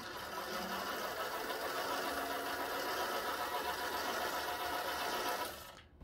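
A metal lathe spins a workpiece for a 30cc four-stroke model engine as the cutting tool just kisses it, giving a quiet, steady mechanical whir for several seconds before the machine winds down at the end.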